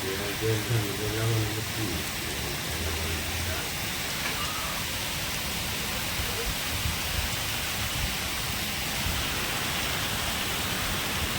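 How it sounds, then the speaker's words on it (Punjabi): Heavy rain pours in a dense, constant roar, with a voice speaking briefly at the start. "ਬਹੁਤ ਤੇਜ਼ ਮੀਂਹ ਪੈਂਦਾ ਪਿਆ"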